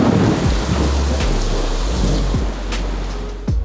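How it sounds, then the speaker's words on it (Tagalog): Heavy rain pours steadily and loudly close by, a dense roar with rumbling thunder beneath it, and no voices. "Lakas ng ulan, no?"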